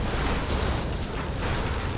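A Battlemaster tank blows up in a real-time strategy game match, a dense continuous roar of booms and rumbling blasts that fills the whole moment.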